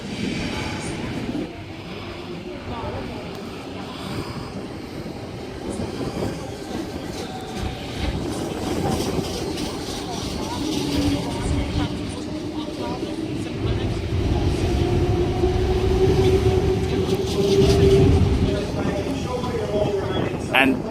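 A Sydney suburban train departs Hornsby station platform, its motors building in a rising whine and wheels clicking over rail joints as it pulls away, with a voice talking over it.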